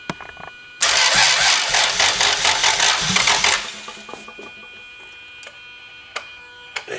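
A Toyota 2JZ-GTE VVTi engine fitted in a Nissan S14 bursts into life with a loud revving roar for about three seconds, then drops away to quiet ticking and clicks.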